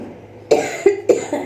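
A person who is feeling unwell gives three close, sharp coughs in a quick uneven series after a quiet start. The coughs are loud and near.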